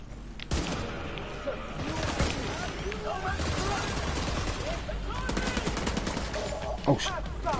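Rapid gunfire from explosive bullets in The Division 2 rattles in dense, sustained bursts with sharp cracks and impacts, loud and close over a busy combat backdrop.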